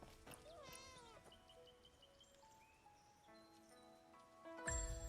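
A cat meows in the video game Where Winds Meet, several soft, quiet mews and warbling cries over faint game ambience, ending with a louder burst of sound.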